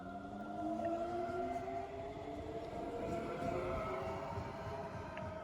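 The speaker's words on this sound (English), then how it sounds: "train is going further, heading to Alto Münster" A train rumbles steadily with a continuous low drone and rising whining tones as it pulls away toward Altomünster, no talking.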